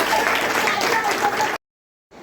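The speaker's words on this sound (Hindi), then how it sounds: "ताली बजाइए।" A group of trainees at an anganwadi training session clap together in a dense burst, which cuts off abruptly into silence before faint noise returns.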